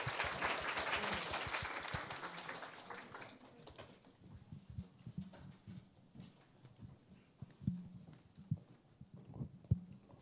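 Audience clapping at a corporate job-talk event, welcoming a finance presenter on stage: a dense burst for the first three seconds or so that thins out and fades, followed by scattered soft thumps and low room noise.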